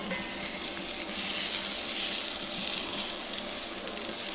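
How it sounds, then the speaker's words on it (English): Fennel sizzles on a hot barbecue plancha, a steady, dense hiss of frying that stays loud and even throughout with no voices over it. "So pop your fennel on a nice hot plancha"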